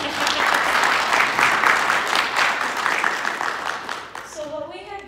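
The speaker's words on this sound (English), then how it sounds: "can we give them a round of applause again?" Audience applause at a diplomacy and leadership summit, a dense sustained clapping from a crowd in a hall that fades out near the end as a voice begins speaking.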